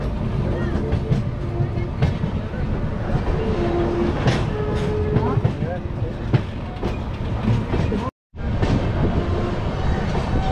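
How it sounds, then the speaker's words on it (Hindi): A Bhubaneswar Janshatabdi Express rolls along the rails at modest speed just after departure. A continuous loud rumble with clickety-clack wheel beats and squeals fills the carriage, with faint voices under the train noise. "अभी तो हमारी ट्रेन जस्ट निकली है, हल्की फुल्की स्पीड के साथ ही चल रही है"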